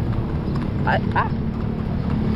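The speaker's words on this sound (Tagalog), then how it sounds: "Ay, kabayo!" At a rural livestock market selling cattle and goats, a horse's hooves clop on the ground under a constant hum of crowd noise, with a few brief voiced calls rising above it.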